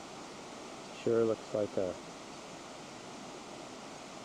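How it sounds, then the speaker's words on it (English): A small babbling brook runs beside the forest path to Chatterbox Falls in the Alaskan North Pacific rainforest, a steady soft rushing wash throughout, with someone briefly speaking over it. "And there's a little babbling brook along the side."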